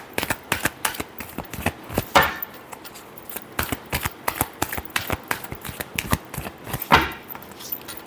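Tarot cards are shuffled in a long run of crisp, rapid riffling bursts, close and fairly loud, with two sharper snaps where the deck is squared.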